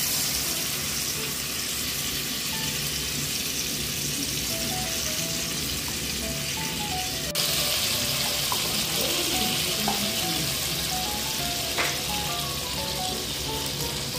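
Cashews, poppy seeds and green chilies hiss and sizzle steadily in a hot wok, a continuous close frying crackle with soft music playing underneath.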